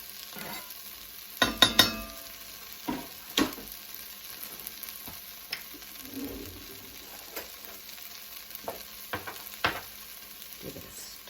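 Pinto bean soup ingredients cooking in a pot, stirred with a utensil that gives scattered scraping clinks and soft knocks over a quiet low simmer, with a few louder bursts of clatter near the start.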